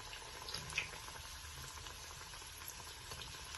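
Potato rolls deep frying in hot oil, a steady soft bubbling and crackle that runs evenly and close throughout with no talk.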